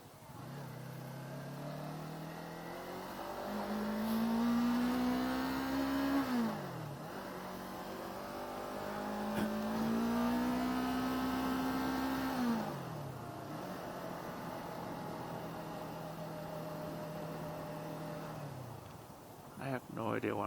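A 2019 Yamaha R3 motorcycle at high speed on a freeway, its engine whining and rising through the gears in two long climbs, then settling into a steady drone with wind rush.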